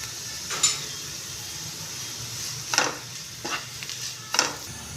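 Grated radish and moong dal dry curry frying in a pan with chilli powder, coriander powder and salt: quiet low sizzle broken by several short, bright scraping bursts of stirring, no voices.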